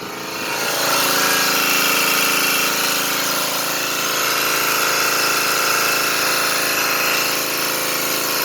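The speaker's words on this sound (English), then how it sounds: "Here's the power steering pump hydro booster motor spinning." A small 12-volt DC electric motor spins the power steering hydro booster pump on an electric one-ton truck, a loud, steady whirring whine that rises at the start and then holds evenly throughout, with no talking.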